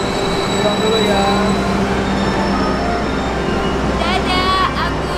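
Indonesian rail journey returning from Purwokerto: steady rumble of a train running on rails with wheel squeal and tonal whines rising near the end, loud and continuous, with people talking over it.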